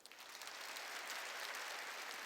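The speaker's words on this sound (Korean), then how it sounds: "이 여인이 박수 좀 쳐줘요." A church congregation breaks into applause, the clapping building within the first moments into a steady, even wash of many hands, somewhat distant and soft, with no speech over it.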